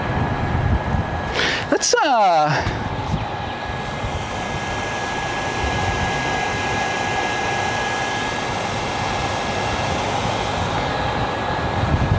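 A landed aircraft at Gold Coast Airport sends out a steady, broad engine roar that carries through the whole stretch, with a brief whooshing sweep near the start. A voice speaks briefly over it.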